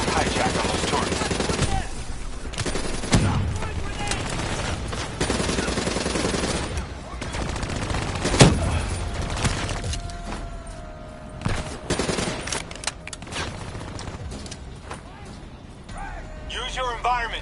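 Gunfire bursts in the video game Call of Duty Black Ops 3, including suppressed weapons and turrets, crackling in repeated rapid volleys with sharp shots and impacts over game effects throughout.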